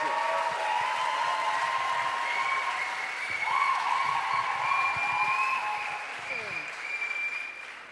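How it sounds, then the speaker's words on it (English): Audience applause at an award announcement for top teams, a dense, sustained wash of clapping that holds at an even level throughout, with faint voices or whistles mixed in underneath. "So a big round of applause for you representatives."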